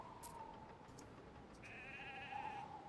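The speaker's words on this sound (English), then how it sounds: "Man, sheep farm is just overflowing." Sheep bleat on a farm in a Roman city-builder video game. Two or three wavering bleats sound at moderate distance over a steady low ambient bed, and the last bleat is somewhat louder.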